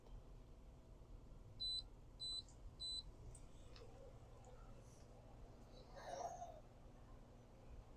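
Three short, sharp electronic beeps from a Big Joe grill controller sound at an even pace in a quiet setting, then a faint clatter follows.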